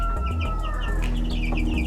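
Chickens raised from incubated eggs cluck and chirp in a run of short, fairly close calls with no talking.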